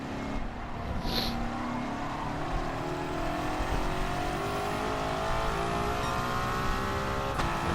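A 1955 Mercedes racing car in a racing video game holds a steady high engine drone with slowly rising pitch, sustained and loud throughout with a faint tire whine over it.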